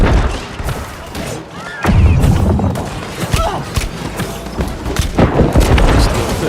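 Cannon fire in a video game battle: heavy booms and thuds repeat in quick volleys over a dense, noisy backdrop, loud and close, with a sharp jump in intensity partway through.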